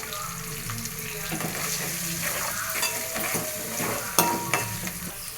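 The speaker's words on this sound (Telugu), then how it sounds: "ఉల్లిపాయలు వేగేటప్పుడు కొద్దిగా సాల్ట్ వేసుకోవాలి" Onions with curry leaves and salt fry in a pan for vegetable sambar, a close crackling sizzle with spoon stirring and a few sharp metallic clinks near the end, no speech.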